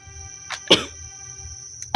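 A man gives a few short, sharp coughs close to the microphone, spaced irregularly over about two seconds, with a steady faint tone and low background hum behind them.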